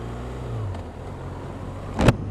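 BMW R1200RS boxer-engine motorcycle cruising a street in third gear near idle, a steady low engine rumble throughout with a brief louder burst near the end.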